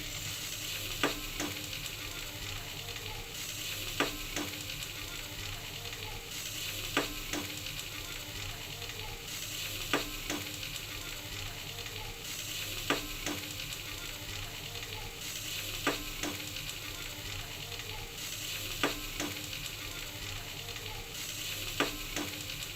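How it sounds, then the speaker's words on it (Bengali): Hilsa fish head stir-fried with taro leaves, a steady close sizzle and hiss from the pan with a sharp scrape or clack of the stirring spoon every few seconds, no talking. "আমি কষিয়ে আর 10-15 মিনিট কষাবো, কষালে আমার রান্না হয়ে যাবে।"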